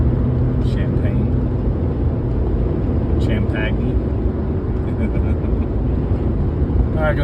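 A car drives along a freeway with a loud, continuous low road and engine rumble throughout, with a few brief higher tones rising above it.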